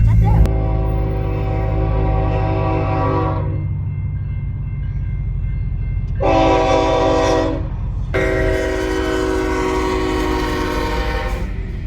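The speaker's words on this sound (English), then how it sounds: "We caught a train, you guys." A loud, sustained train horn sounds in several long blasts over a steady rumble of rail noise, with brief pauses between blasts.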